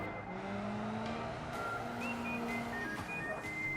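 Renault Rally R4 in the BeamNG Drive racing game accelerating hard, a steady engine drone with rising tones as it revs through gears, loud and continuous with no talk.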